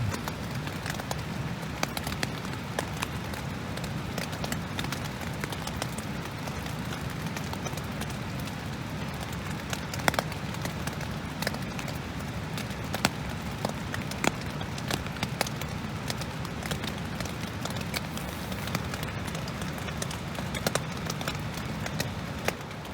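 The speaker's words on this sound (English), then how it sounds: "As you can probably hear from the rain on the tent" Steady rain pattering on a tent beside the East Quinault River, a dense continuous patter with scattered sharper drop taps throughout, close and even, with no talking.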